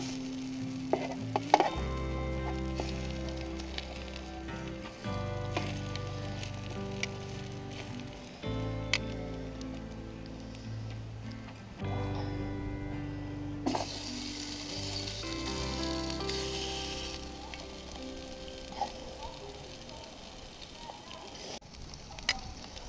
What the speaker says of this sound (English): Sausages are browning up pretty good.